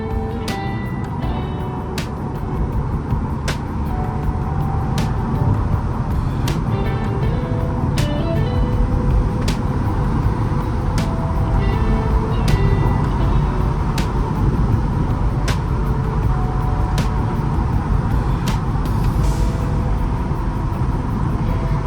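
A Mercedes-Benz E 220 CDI cabriolet with a 2.2-litre diesel engine drives steadily, its engine and road noise forming a loud continuous rumble with a sharp tick recurring at a regular interval.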